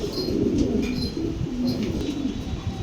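Pigeons cooing steadily and close, a continuous low, throaty rolling coo with no pause, the birds calling non-stop.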